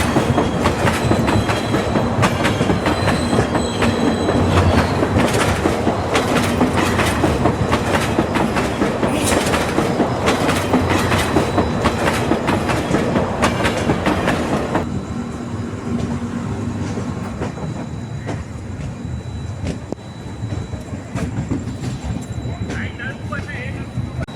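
Konkan Kanya Express train at Ratnagiri railway station, a loud continuous rumble and clatter of rolling cars with wheel clacks that eases off and grows quieter partway through, with voices mixed in.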